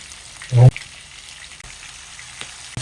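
Milkfish submerged in reused oil for frying, a continuous soft crackling sizzle beneath a sharp clatter near the start and a faint knock at the end.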